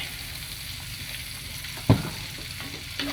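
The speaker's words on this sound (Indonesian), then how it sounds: "bumbu yang sudah dihaluskan tadi kita masukkan ke dalam minyak yang panas" Ground spice paste for chicken soto hits hot oil in a pan with a steady loud sizzle throughout, plus a sharp clack of a utensil partway and another near the end.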